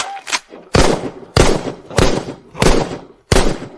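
Six sharp, loud gunshots ring out at a steady pace at a shooting range competition, each a hard crack followed by a short decaying tail, with a faint voice briefly heard near the start.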